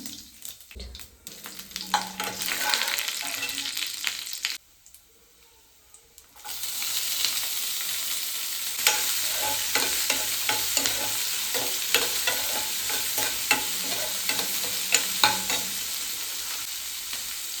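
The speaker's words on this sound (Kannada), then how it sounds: "ಸೊ ಜೀರಿಗೆನ ಹಾಕೊಳ್ತಾ ಇದ್ದೀನಿ." Cumin seeds sizzle in hot oil for Andhra-style palak pappu, a loud, crackling hiss that drops out briefly midway, then resumes with a spoon stirring and scraping the pan.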